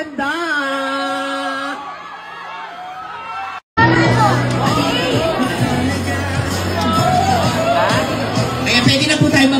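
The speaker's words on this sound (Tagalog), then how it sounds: "salubungin na natin ng palakpakan at hiyawan" Crowd at a red carpet premiere night cheering and chattering loudly, a steady babble of whoops and shouts that cuts out briefly and then returns at full strength.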